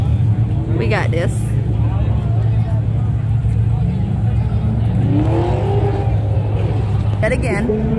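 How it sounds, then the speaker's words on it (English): Car engines, including Mustangs, drone steadily at a car show, with a rising rev near the middle, under nearby chatter and crowd noise. "And again, we hear revving engine."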